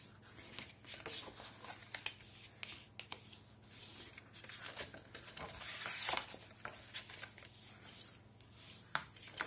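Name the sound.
folding a cardboard milk carton box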